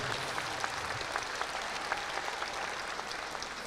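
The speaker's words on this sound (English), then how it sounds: "Let's give all these leaders a big old round of applause" Steady applause from a dinner audience honoring leaders at the National Native American Hall of Fame, a dense, even wash of many clapping hands held at a constant level throughout.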